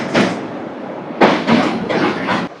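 The Puri Tirupati Express rolls along its rails near Nellore station, giving a close rumbling clatter with several sharp bursts of wheel noise at irregular intervals.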